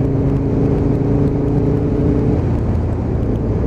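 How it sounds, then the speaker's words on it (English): Aprilia RSV Mille motorcycle accelerating, a loud, continuous engine drone with wind rush, its tone shifting as speed builds, heard close from the rider's position. "literally the tiniest bit of throttle on this, it launches"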